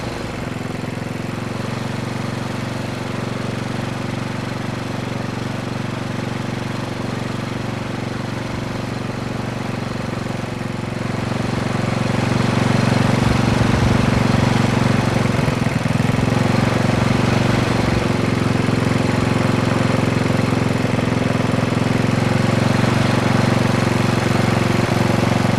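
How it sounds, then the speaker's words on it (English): A Tecumseh small engine idles steadily and loudly on its own, with a continuous low mechanical drone that grows slightly louder and rougher about halfway through. "Return the engine to idle"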